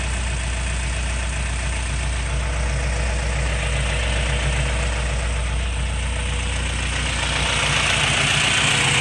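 A car engine with a DIY intake, running rich, idles steadily and loudly up close, with a continuous low rumble and no voices.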